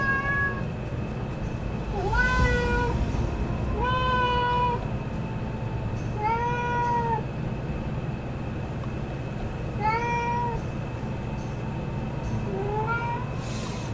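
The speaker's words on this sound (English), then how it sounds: "You may hear the cat in the background." A cat meows repeatedly, about six drawn-out cries spaced a couple of seconds apart, over a low, constant rumbling hum.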